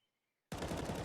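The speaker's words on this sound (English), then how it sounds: "Hail of gunfire." Sustained burst of Counter-Strike gunfire erupting after half a second of near silence, a loud, dense rattle of rapid shots filling the rest of the clip with no voices.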